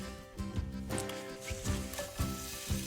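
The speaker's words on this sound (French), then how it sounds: "Pendant que l'oignon frit, on se fait un peu de poivron." Chopped onion sizzling and frying in a little oil in a pan, a steady crackling hiss with small pops and occasional stirring bumps throughout, close up, no talking.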